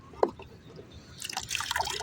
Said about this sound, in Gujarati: આ પાવું પાણી આવે છે કેમ પણ જો એટલું એટલું કંઈક પાણી આવે